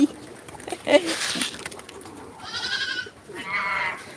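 Two drawn-out bleats, a goat calling twice in a row at moderate distance, with a little background chatter and rustling early on.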